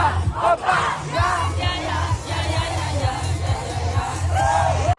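French fans cheer and yell at a concert in Paris, a large crowd roaring continuously with shouts and whoops rising above a steady low rumble throughout.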